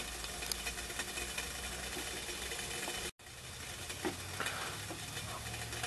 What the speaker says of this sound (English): We're going to let this thing keep boiling just to see how long that half an ounce of alcohol burns for.